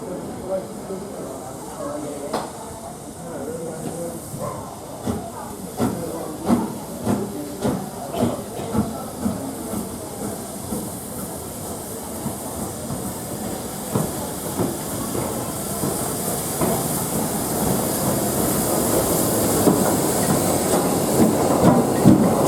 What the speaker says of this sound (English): Our attraction on this sunny day was visiting Black 5 locomotive 45337.